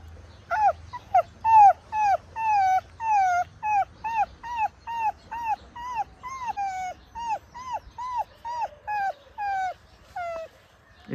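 A boy imitates a dog with a rapid series of about twenty short yelping, whimpering cries in a steady rhythm, close and fairly clear.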